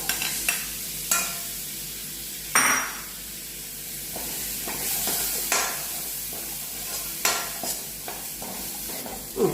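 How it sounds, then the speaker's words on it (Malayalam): Green peas stirred into a hot frying pan, with a steady loud sizzle throughout and repeated scraping strokes of the spoon against the pan at irregular intervals, close up and with no talking. "ഗ്രീൻ പീസ് ചേർക്കാം"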